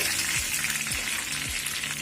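Chicken cutlets fry in hot oil, giving a dense, continuous crackling sizzle with four soft low thumps recurring at a regular pace beneath it. No one speaks.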